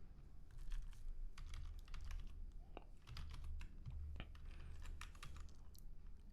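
Irregular bursts of clicky keystrokes on a computer keyboard, fairly quiet and close, with a couple of sharper key taps standing out over a low room hum.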